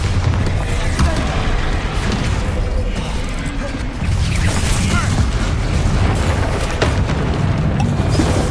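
Bombarda spell blasts in Hogwarts Legacy amid a chaotic fight with a troll, with heavy booming explosions and rumbling impacts filling the scene continuously.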